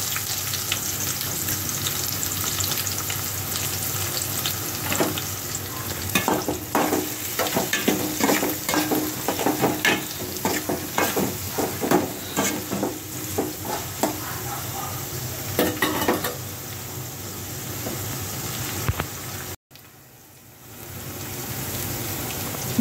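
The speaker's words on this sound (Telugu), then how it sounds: "ఇప్పుడు ఉల్లిపాయ ముక్కలు తరిగి పెట్టుకున్న ఉల్లిపాయ ముక్కలు వేస్తున్నానండి" Chopped onions frying in hot oil for a prawn curry, a loud continuous crackling sizzle with bursts of spattering and stirring, cutting off abruptly near the end before a quieter hiss resumes.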